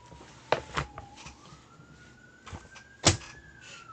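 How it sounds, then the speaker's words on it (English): A faint, distant siren wails with a slowly rising pitch, under a few louder nearby knocks and thumps. "And more sirens. We have more sirens."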